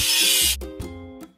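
A machine is scrubbed free of rust in a house-building video game: a short, bright rasping rub followed by a few tonal game-effect tones. The sound is close and loud, with no voices.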